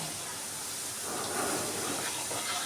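Mango pickle mixture frying in a pan on a stove, a steady low hiss and crackle of oil running continuously and fairly close, swelling slightly partway through, with no talk.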